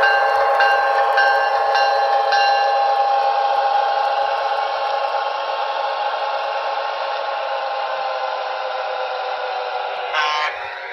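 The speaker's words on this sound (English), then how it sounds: "Now arriving on track number one, train number 4821." GG1 model locomotive running on track, a steady whirring motor drone with a high electric whine that holds nearly constant for several seconds, close and alone, with faint clicks near the start and a brief rattle near the end.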